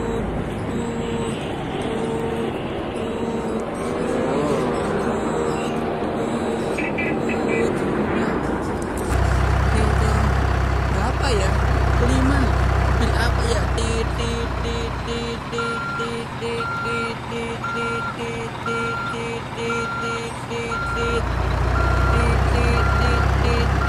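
A toy construction dump truck with a reversing alarm gives a steady, repeating beep pattern alongside a low rumbling engine sound, with a voice talking nearby.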